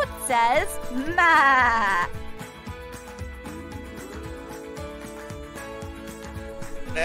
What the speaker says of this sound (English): A goat says, ma.